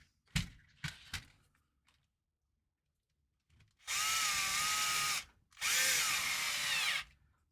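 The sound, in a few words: power drill driving screws into RC crawler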